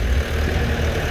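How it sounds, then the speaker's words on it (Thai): An M135X tractor engine idles in a low, steady rumble close by, an even mechanical drone with no change in pace over a brief moment. "นี่ครับรถไถ"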